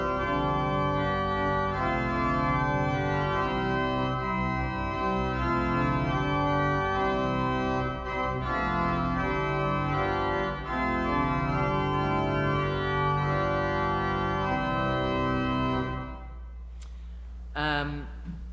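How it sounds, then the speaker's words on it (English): Church pipe organ at St. Calixtus Parish Church, Astley Abbotts, playing a full plenum with mixture and pedal underneath: a sustained, bright, rich chordal passage, loud and continuous, ending with a brief reverberant release and faint voice. "So that's the plenum of the organ."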